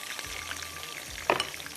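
Chicken for black pepper chicken frying in oil, a brief steady sizzle with a couple of low thumps and a sharp clink of utensils near the end.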